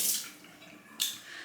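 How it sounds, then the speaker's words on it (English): Water running briefly from a tap while shaving lather is rinsed off, a hissy splash at the start and another burst a second later, close by and without talk. "When rinsing off the lather, There was some residual slickness."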